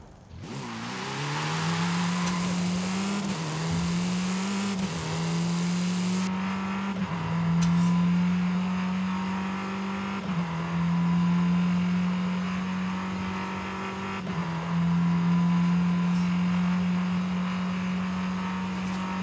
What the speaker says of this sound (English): Quite a nice sounding car.